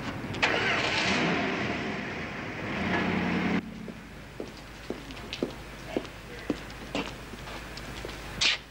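A car engine cranks and roars into life with a loud burst that revs for a few seconds, then cuts to a quieter idling drive-off scattered with clicks and knocks, nearby and without talk.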